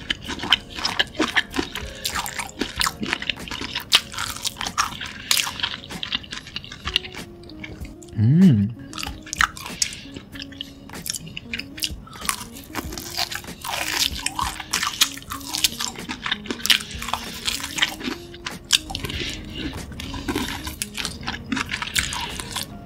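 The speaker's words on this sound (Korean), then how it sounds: "직접 만든 시즈닝도 한번 같이 찍어 먹어볼게요." Fried chicken dipped in homemade seasoning is eaten close to the mic, with soft crunchy bites and wet chewing repeating steadily, plus occasional light clicks and smacks.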